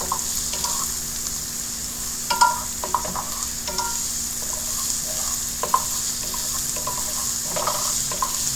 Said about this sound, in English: I'm adding plenty of garlic so that the soup has a garlicky smell and flavor.